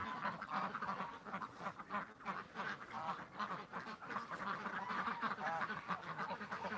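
Ducks quack continuously in a dense, overlapping chorus outdoors, loud and close, with no talk over them.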